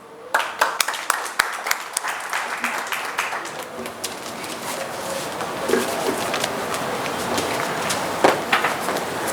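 An audience at an annual association meeting claps. Scattered individual claps come first, then they thicken into steady, moderate applause in a hall, with some background voices and a brief coo-like sound.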